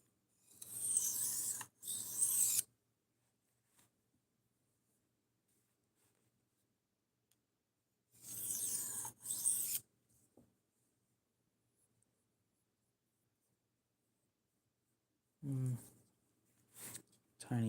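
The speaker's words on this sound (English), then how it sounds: "the reprofiling takes forever because I can't push as hard as I need to" A knife blade being reprofiled on a sharpening stone: bursts of close, raspy scraping strokes separated by long quiet gaps, with a short voiced sound near the end.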